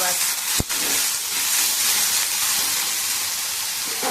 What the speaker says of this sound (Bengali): আগে আগে আলুটা ভাজি, সর্ষের তেল দিয়ে আলুটা ভাজি